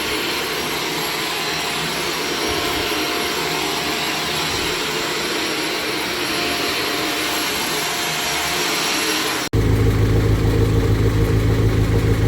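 A carpet cleaning machine runs steadily over heavily soiled, sticky carpet, a loud continuous motor whine that shifts abruptly to a deeper, heavier roar near the end.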